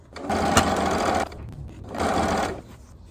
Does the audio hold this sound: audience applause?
no